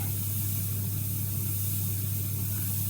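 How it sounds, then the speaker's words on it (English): Steady airbrush hiss of Trident paint being sprayed, a constant close, even stream of air with a low hum running underneath and no pauses. "Coming out the airbrush, can't fault it."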